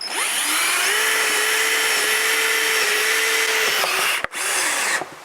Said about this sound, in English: now we're trying it with the drill here with the Waitley adapter